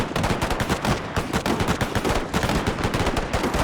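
Dense rifle gunfire crackles from soldiers in Total War's Anglo-Zulu War setting, a near-continuous volley of overlapping shots that stays loud and steady throughout with no pauses.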